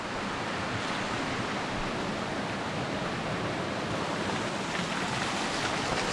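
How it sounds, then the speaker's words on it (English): A steady, broadband rush of falling water from a waterfall, constant and enveloping with no breaks or voices, like close surf or a heavy stream. "Some guys like the waterfall."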